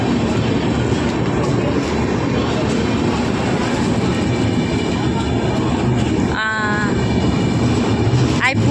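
A local train running between Siliguri and Mal Bazar rumbles steadily throughout, with a brief whistle-like tone near the end and people talking close by over the noise.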